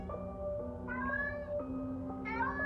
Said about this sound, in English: His meows were being muffled by a jacket